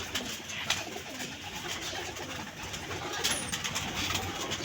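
Birds calling with soft, low cooing amid a busy, noisy outdoor background, steady and moderately loud throughout.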